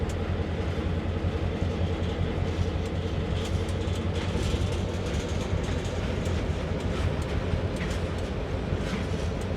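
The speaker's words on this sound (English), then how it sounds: "Yes, Bruins, this is an Empire service train." An Amtrak SW1000R locomotive runs on the Northeast Corridor in Train Sim World, giving a continuous loud rumble of engine and rolling wheels with faint clicking from the rails, steady throughout and without talk.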